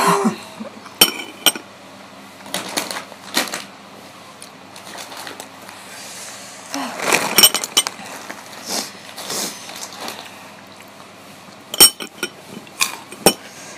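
A metal spoon clinks and scrapes against dishes repeatedly at close range, in irregular bursts with occasional sharper knocks.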